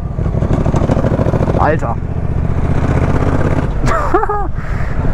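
A motorcycle engine drones loudly and steadily in sixth gear as the rider gives it a brief burst of throttle, with a voice shouting over the engine noise.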